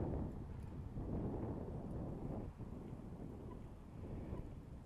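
Wind gusting steadily across the microphone at the entrance of Bourgenay harbour, a continuous loud low rumble with slight dips, no voices over it.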